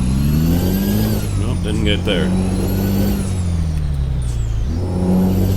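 Freightliner Coronado truck engine in American Truck Simulator, loud and close, revving with rising and falling pitch through the gears and a raspy edge near shift points, with someone talking over it.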